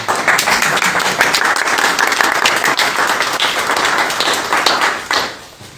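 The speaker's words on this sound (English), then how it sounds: "I always like to hear the applause at the beginning" A live audience applauds to welcome a speaker at a civic talk, with dense, loud, steady clapping throughout that tapers off at the very end.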